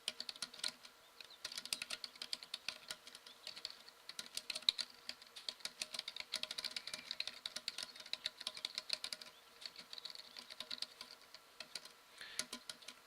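Steady, fast typing on a keyboard, keys clicking in continuous irregular bursts, close but quiet with no voices.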